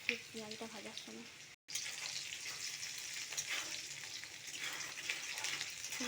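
Chopped onion and green chilli frying in hot oil for a spiced chickpea curry, a steady broad sizzle that runs on after a brief cut, with faint clinks early on.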